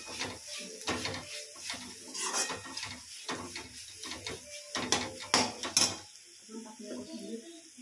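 A spoon scrapes and clatters against a pan while dodi flower vegetable with plenty of coriander is stirred, in irregular clicks and scrapes at close range, with a voice talking faintly in places.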